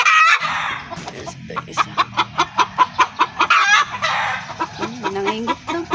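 Chickens cluck in a quick rhythmic series of sharp, close calls, with a rooster-like drawn-out call near the start, while a person speaks briefly over them.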